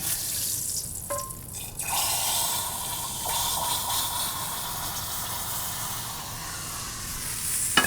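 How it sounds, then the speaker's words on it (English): Hot fat from searing a steak is poured out of the pan, a broad continuous hissing sizzle with a splashing, liquid wash over it that holds steady for several seconds, close and with no speech. "I'll take this fat that's inside the pan"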